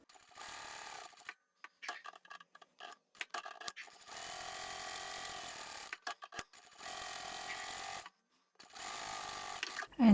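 A sewing machine stitches a drawstring bag in several short bursts of rapid mechanical whirring, separated by pauses, clicks and brief backstitch runs, with a voice speaking between the bursts.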